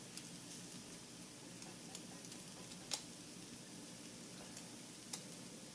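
Scrambled eggs cooking in a pan give a faint, steady sizzle, punctuated now and then by small ticks and clicks of a utensil stirring against the pan.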